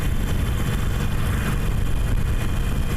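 A motorcycle engine holds a steady 2800 rpm while cruising at about 54 mph, giving a dense, continuous low drone with rushing road and wind noise that stays constant throughout.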